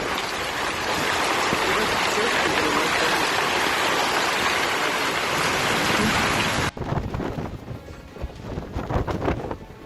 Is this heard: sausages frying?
no